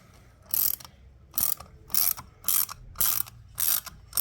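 Ratchet wrench tightening a valve spring retainer nut on a 5.3 LS engine head, working in seven evenly spaced bursts of bright clicking, each about a quarter second long, close and alone with faint background hum.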